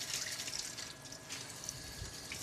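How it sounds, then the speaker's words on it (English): Cold tap water runs into a kitchen sink over cooked noodles, a faint, steady splashing wash that stays even from start to finish with no talking. "I'm going to rinse them directly under cold water"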